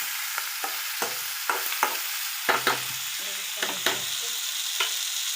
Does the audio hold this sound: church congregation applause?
no